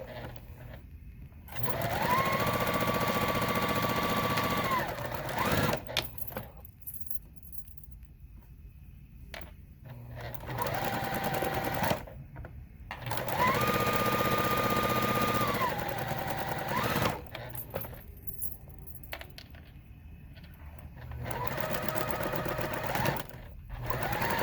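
Domestic sewing machine stitching a quarter-inch seam on a quilt block, two loud whirring bursts of several seconds each separated by quieter pauses, then a third run starting near the end.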